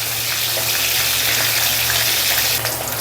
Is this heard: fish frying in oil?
yes